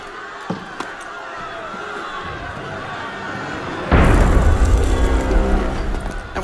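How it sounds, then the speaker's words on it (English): Heavy cannon fire in the game Assassin's Creed Unity, a sudden loud booming blast that erupts midway and rumbles on, following a quieter stretch of ambient murmur with a couple of faint knocks. "That was cannon fire."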